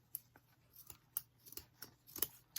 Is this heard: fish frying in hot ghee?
no